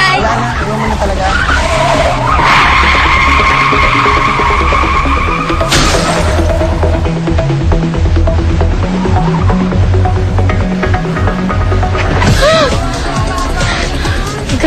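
A car skids with loud, sustained tire screeching in a near miss on a city street, a harsh squeal over rumbling engine and traffic noise.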